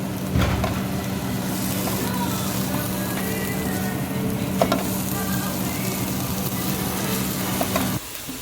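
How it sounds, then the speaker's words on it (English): Curried cauliflower, mushrooms and corn fry in a pan with a steady, dense sizzle and crackle, a few stirring clatters mixed in, close and continuous until the hiss drops off near the end. "then do curried cauliflower, mushrooms and some corn in the pan"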